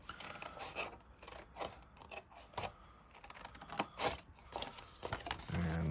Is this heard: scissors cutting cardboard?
yes